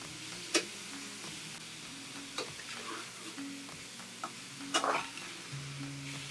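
Shaved beef for Philly cheesesteak egg rolls sizzles quietly in olive oil in a pan. A utensil stirs and breaks up the meat, making sharp scraping clicks and taps over the steady frying hiss.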